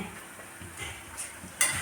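Food fries in oil in a pan on a stove, a soft steady sizzle with light stirring and scraping close by, briefly louder near the end.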